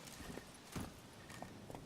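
Roach, the horse in The Witcher 3, walks with soft clip-clop hoofbeats, a few irregular thuds set against a low game ambience, fairly quiet and unaccompanied by speech.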